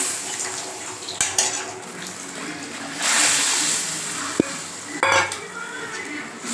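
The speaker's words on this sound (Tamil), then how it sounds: "இப்போ மிக்சி அலசனம் தண்ணி ஊற்றிப்போம்" Water splashing as it is poured into a mixer-grinder jar to rinse it while cooking garlic kuzhambu, mixed with clinks of metal and kitchenware nearby.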